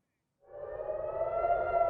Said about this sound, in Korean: 캄캄한 밤하늘에 공습 사이렌이 울려 퍼집니다.